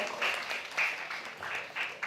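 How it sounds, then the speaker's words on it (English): Light, scattered applause from a small public speaking workshop audience, steady and fairly soft throughout. "please give yourself an applause for volunteering"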